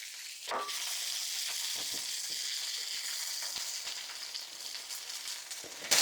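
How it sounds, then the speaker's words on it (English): Onions frying in a hot pan, a continuous soft hiss of sizzling with scattered crackles and a few scraping stirs, quiet and steady with no voices. "I'm going to start off with cooking the onions first"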